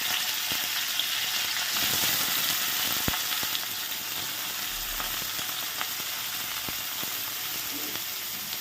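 Beans and carrots fry in hot oil in a wok, a dense steady sizzle with scattered sharp clicks of a spatula, loud and close throughout.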